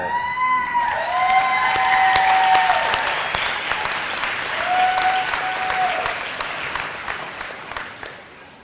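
Audience at a graduation ceremony bursts into steady applause with some cheering, loud at first and gradually thinning out, while a few voices call out over the clapping.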